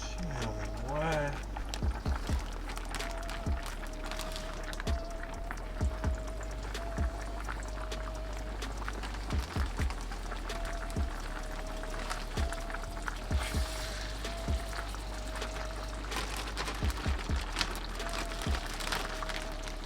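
Tap water runs steadily for hand washing in a home kitchen during salmon dinner preparation, a faint continuous splash with a few clicks and clunks of handling.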